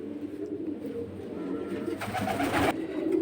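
Pigeons coo softly in a steady, low murmur against a constant background hum at a pigeon market, with a brief louder rustle near the end.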